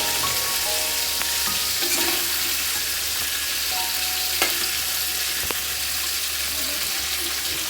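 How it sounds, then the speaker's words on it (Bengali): Potato pieces with turmeric sizzle steadily as they fry in oil in a kadhai, with occasional clinks and scrapes of stirring close by; nobody speaks. "এরপরে ভালো করে নেড়ে চেড়ে আমি আলুগুলোকে ভেজে তুলে নেব।"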